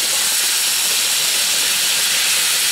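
Pork tenderloin sizzles loudly in a frying pan with garlic after being flipped, a steady, dense hiss that runs unbroken from start to finish with no voices.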